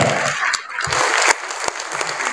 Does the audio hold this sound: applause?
yes